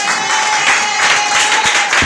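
A church congregation stands and applauds in praise, a continuous wash of hand clapping from a crowd with a steady tone sustained underneath, fairly loud throughout.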